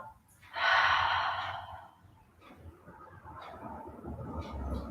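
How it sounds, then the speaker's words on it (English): A deep breath during a yoga flow: a strong, airy inhale rises and holds for about a second, then a softer, longer exhale trails off under quiet low background rumble. "Take one more nice deep inhale. And then exhale through the mouth."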